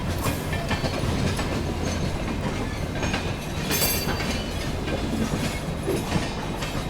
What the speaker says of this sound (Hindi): अपना अराइवल होता हुआ दोस्तों MGR चेन्नई सेंट्रल